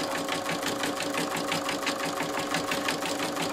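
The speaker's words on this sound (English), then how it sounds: "So I'm just going to lower my presser foot and stitch." A sewing machine stitches a St Patrick's Day coaster with metallic thread, its needle hammering in a fast, even rhythm at close range with no pauses.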